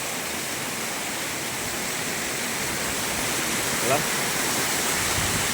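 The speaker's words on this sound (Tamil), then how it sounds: "இப்படி ஒரு 25 அடிக்கு மேலே இருந்து நமக்கு அருவி கொட்டுறது. இயற்கையான அருவி" A natural waterfall, over 25 feet high near Kalasapadi, pours in a constant heavy rush close by, with a faint brief tone briefly rising over the roar near the end.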